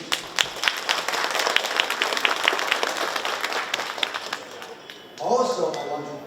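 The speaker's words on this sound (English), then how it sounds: "Let's give them a warm applause, please." An audience at an insurance group's annual meeting claps in scattered, uneven bursts that build briefly, then a voice starts talking as the applause fades.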